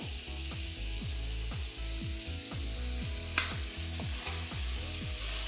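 Garam masala powder being stirred into a simmering mutton yogurt curry (dahi gosht), with a steady sizzle and a repeated scraping rhythm of the spoon against the pan, close and continuous.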